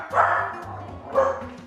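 Two barks from a dog, about a second apart, fairly close and moderately loud.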